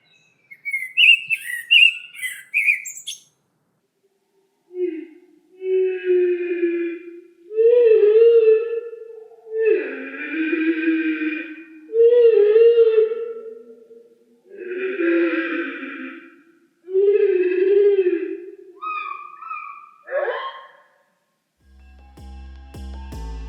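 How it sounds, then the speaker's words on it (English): Blackbird song recorded in a park and pitched down two octaves, heard as a series of slow, deep, warbling phrases separated by short pauses, with sudden pitch leaps and a faint echo. The song is clear and close, with no other sounds. "I would like to start with a recording of a blackbird I captured in a park nearby my home."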